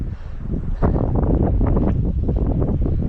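Strong wind on coastal mudflats during mud crab hunting buffets the microphone in a loud, continuous low rumble with gusty surges, no voices.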